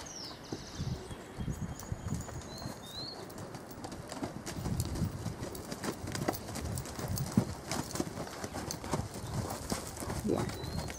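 Hooves of a dun roan quarter horse clip-clop steadily across the ground at close range, with pigeons cooing and birds calling in the background.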